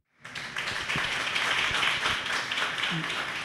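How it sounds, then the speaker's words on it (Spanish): An audience applauding a guest at the close of a talk show, clapping that rises quickly and holds steady for about three seconds, with a brief voice murmuring partway through. "Les pido por favor un aplauso para Margarita."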